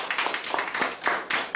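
Lecture-concert audience in Korea welcoming a guest speaker with applause: scattered, uneven claps close by, moderately loud and clearly separated rather than a dense wash.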